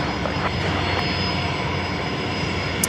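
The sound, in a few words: Singapore Airlines airliner lining up on runway at Brisbane Airport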